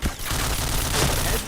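Rapid gunfire from the shooter video game Point Blank, a dense burst of shots holding steady and loud across the whole moment with no pause.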